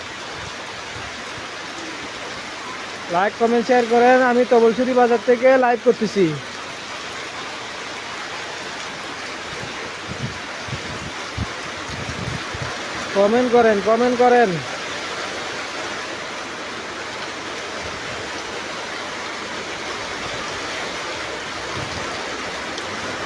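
Steady heavy rain roars over Taboloichhari bazaar throughout, while a person talks in two short bursts above the unbroken rush of water.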